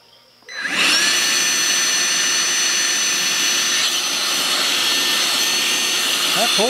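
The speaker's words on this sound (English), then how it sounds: "Just a drill vacuum with a filter on it." A drill-powered vacuum attachment fitted with a filter starts up after a brief quiet moment, then runs as a loud, steady high-pitched whine and rushing airflow, close by and continuous.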